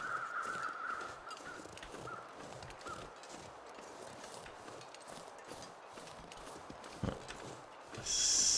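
Crows cawing in the wintry survival game The Long Dark, a few harsh calls rising over a steady wind-like ambient bed, mid-distance and moderately quiet, with a louder burst near the end.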